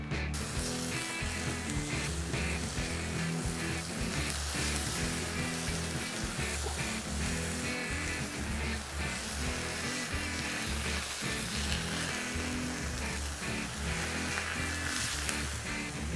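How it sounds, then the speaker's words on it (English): Beef burger patties, 80-20 ground beef, sizzle loudly on a grill with a steady, dense crackle and hiss that keeps on without a break. "I just want to put them down onto the grill. We're going to cook them up."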